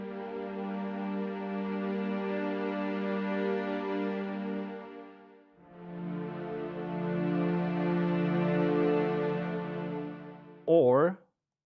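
Sunset Strings sample library holding a sustained string chord that blends from sul tasto vibrato to normal vibrato, dipping briefly midway before swelling again, ending with a short wavering phrase.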